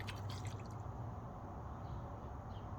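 Car shampoo, Carpro Descale acidic formula, trickles steadily into a container in a continuous close liquid drip-and-fill wash with no talking.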